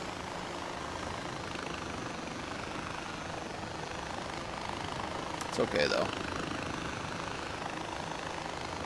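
A helicopter in the game Far Cry 4 whirs and drones steadily as a broad, continuous rotor and engine wash. Someone speaks briefly over it partway through.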